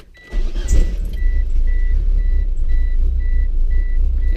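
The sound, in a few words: car engine starting and running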